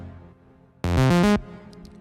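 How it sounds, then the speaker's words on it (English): Diva software synth note with its filter swept by an envelope, a single bright, harmonically rich tone about half a second long that opens up as it sounds, then a faint tail; no voices. "I use Diva to create the synth sound."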